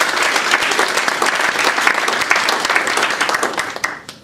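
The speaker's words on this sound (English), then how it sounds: "So just a round of applause at these two." Audience applause at a Ripon Society event with congressional speakers: dense, loud clapping from a crowd, steady for about four seconds before tapering off at the end.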